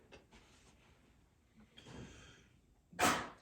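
A single sharp sneeze bursts out near the end, fairly loud and close, after a stretch of quiet room noise with faint breathing at a panel discussion.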